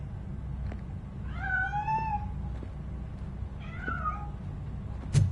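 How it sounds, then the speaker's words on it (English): Cat meowing in the video game RoboCop: Rogue City, two drawn-out rising-and-falling meows in quick succession over a low steady background hum, fairly close, followed by a brief sharp thump at the end. "That cat must be hiding inside."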